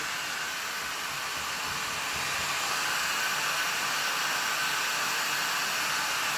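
A Parkside PHLG 2000 E4 heat air gun runs continuously with a steady, close, airy blowing hiss, used to heat and strip old paint from wood.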